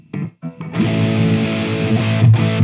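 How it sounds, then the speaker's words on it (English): Heavily distorted electric guitar through a Zoom 505 effects processor rings out loud and dry with no reverb, a couple of short stabs followed by a long sustained chord. "There you go again with a shitload of distortion"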